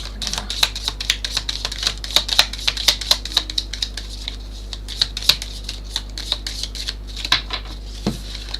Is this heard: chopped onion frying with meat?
no